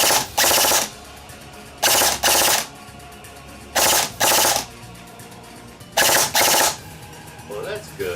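An airsoft rifle with an electric motor, a Spartan Delta E&L, fires four short paired bursts with quiet gaps between them, sharp and close, and a faint voice follows at the end.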